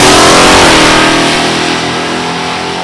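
A 1977 Pontiac Firebird and a six-cylinder Nova launch in a drag race, engines roaring loud and close, revving hard then easing slightly as they pull away.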